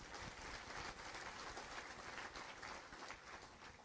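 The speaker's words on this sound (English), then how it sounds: "Give Chris a round of applause." An audience at a county State of the County address claps steadily, a dense and fairly distant round of applause that carries on evenly throughout.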